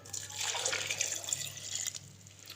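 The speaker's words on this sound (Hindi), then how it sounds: "1 गिलास जो हमने दूध का लिया था ये भी हम इसके अंदर डाल देंगे" Milk from a glass pours into a jug holding apples for a milkshake, a short close splashing gurgle that trails off after about two seconds.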